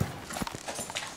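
Horse hooves clip-clopping on a trail during a multi-day horseback journey, several irregular hoof strikes close by with some rustling between them.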